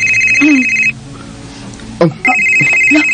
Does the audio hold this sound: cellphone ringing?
yes